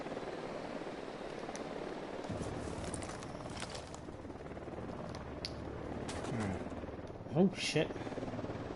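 Helicopter approaching in the Ghost Recon Wildlands video game, a steady low rotor rumble running throughout under gunfire pops and a brief spoken exclamation near the end.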